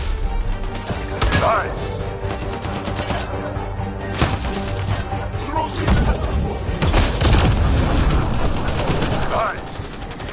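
A grenade launched and exploding in a fight in the video game Mass Effect: Andromeda, with loud booming blasts and bursts of gunfire over a backing music score and a short spoken remark.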